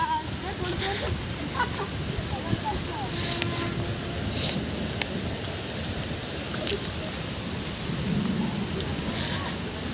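Heavy rain pours steadily in a broad, dense hiss, with faint rumbling thunder underneath and occasional louder splashes, continuous throughout.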